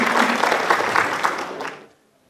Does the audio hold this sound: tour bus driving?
no